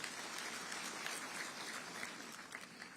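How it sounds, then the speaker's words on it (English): An audience at the 7th SADC Summit Public Lecture applauds the Vice President of Zimbabwe, a steady, moderately faint wash of clapping from a large crowd lasting about three seconds. "Let us give him a round of applause."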